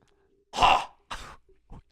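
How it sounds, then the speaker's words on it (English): A single person clears their throat in two rough bursts, the first loud and harsh, the second shorter, then a faint trailing rasp, heard close up with silence around it. "I need to clear my throat."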